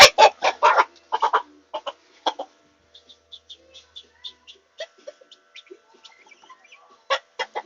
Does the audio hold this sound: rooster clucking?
yes